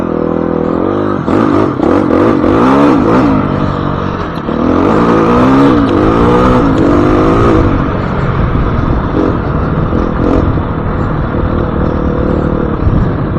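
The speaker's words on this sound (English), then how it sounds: "Let's go, dirt bike. Act like a dirt bike." Husky FE350s dirt bike riding off-road over sharp-edged rocks, its engine droning loud and close with rising and falling revs and clattering over rough ground.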